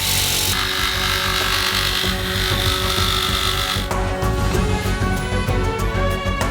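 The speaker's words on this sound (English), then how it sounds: "and then cut the pipe with a jigsaw." A jigsaw buzzes continuously as it cuts through plastic pipe, its tone shifting partway through, loud and close with no talking.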